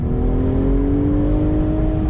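A 2023 BMW Z4 M40i accelerating, its engine note a steady loud rising drone with clear harmonic tones climbing in pitch, heard from inside the car with no talk.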